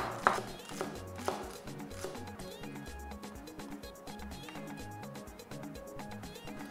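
Knife chopping spring onion on a board while cooking fried rice: a few sharp, separated cuts near the start, then softer taps, all under steady background music.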